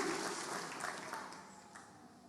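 Congregation clapping together in a church during a Christmas service, a dense broad wash of applause that is strongest at the start and gradually thins out.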